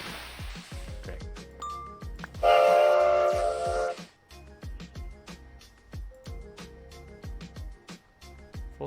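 A train running in the Minecraft Create modpack video game, with a steady rhythm of rail clicks and a louder tonal horn-like burst partway through, set against background game music.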